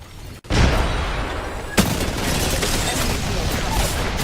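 In an Apex Legends match, a frag grenade detonates with a loud, sharp boom near the start, a second burst follows moments later, and dense gunfire and battle noise continue around it.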